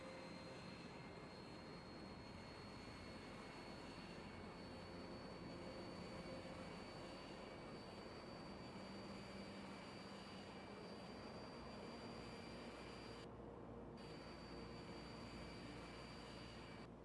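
An airplane in the video game Factorio drones steadily at a moderate level for the whole stretch, with a continuous engine hum and no speech over it.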